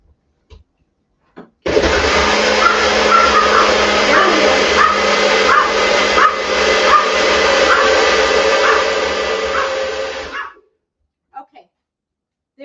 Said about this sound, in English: he had to give an extra bark just to make sure I knew that there was a blender going